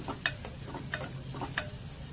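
Tomatoes and onions being sautéed in a clay pot for a ridge gourd and chana dal curry, with a soft steady sizzle and three sharp scraping stirs spaced through it, close and fairly quiet, no talking.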